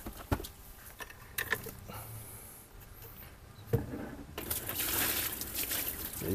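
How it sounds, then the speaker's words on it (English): Water drains out of a hole in the bottom of a disposable cardboard shower tub, a soft close trickle and dribble with a few faint knocks and creaks, rising to a steadier hiss of flowing water near the end. "And there, it's draining out of the hole."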